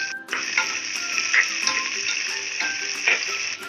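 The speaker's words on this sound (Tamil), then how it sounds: "பொடியாக கட் பண்ணி வச்சுருக்க 3 பெரிய வெங்காயத்தை சேர்த்துட்டு நல்லா" Three large finely chopped onions sautéing in a pan for mutton kuzhambu, a steady bright sizzle with brief scraping stirs, close and fairly loud.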